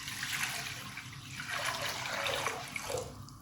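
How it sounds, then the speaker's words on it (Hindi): Water poured into a karahi wok set on a lit stove flame, a soft continuous splashing and gurgling pour lasting a few seconds at low volume. "यहाँ पे मैं पानी इसके अंदर ऐड कर दूंगी"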